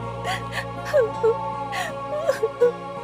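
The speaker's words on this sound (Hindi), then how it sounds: "ये कौन है जिसकी मुझे रोने की आवाज सुनाई दे रही है?" A girl in an animated Hindi children's story cries, with short whimpering sobs and wavering moans in several bursts over a steady background hum.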